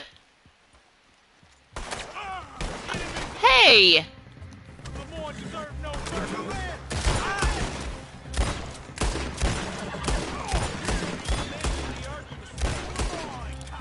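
Rapid bursts of gunfire from Red Dead Redemption 2, loud and clustered into a dense volley of shots after a quiet start, with a voice shouting briefly amid the shooting.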